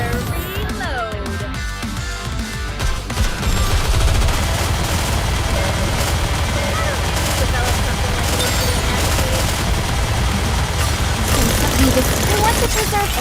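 Gunfire in the video game NIKKE rattles as continuous rapid bursts of shots and booms, dense and loud, with game voices speaking over parts of it.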